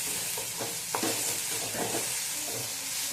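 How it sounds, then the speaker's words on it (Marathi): Soft tomato with a pinch of turmeric sautés in a pan for kande pohe, a steady sizzle broken by scraping stirs of a spoon, close and fairly quiet with no voices. "आपला टोमॅटो हा छान मऊ झालेला आहे आता त्यामध्ये टाकायचे एक चिमूटभर हळद हळद टाकून अगदी ती एक मिनिटभर परतवून घ्यायची आहे"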